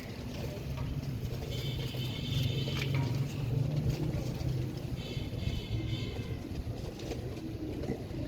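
Pigeons being readied for shipment from Pakistan to Iraq, soft low cooing under a steady background hum and rustle, fairly faint and continuous.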